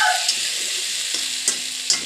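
Whole ivy gourds (kundru) stuffed with masala fry in a pan, a bright steady sizzle with a couple of soft stirring scrapes, close and fairly loud, with no talking.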